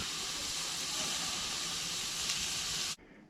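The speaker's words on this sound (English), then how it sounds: "Got the grill set up and we are cooking some dinner." Steady hiss of food sizzling on a camping grill, chopped steak and onions cooking outdoors in late October at a beach campground, continuous and close before cutting off abruptly near the end.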